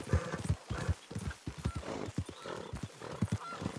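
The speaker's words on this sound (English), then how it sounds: "There's a horse there." Horse hooves clip-clop in uneven steps while a horse neighs and snorts in Red Dead Redemption 2, close and clear with no speech.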